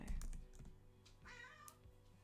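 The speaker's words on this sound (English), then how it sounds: "my cat has come to join me" A house cat gives a short, quiet, drawn-out meow close by, with soft computer keyboard tapping at the start.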